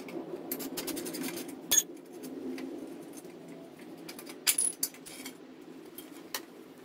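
Wrench work on a motorcycle fender's bolts and acorn nut, a quiet backdrop broken by a few sharp metallic clinks and taps close by, including a brief cluster of clicks midway; no talking.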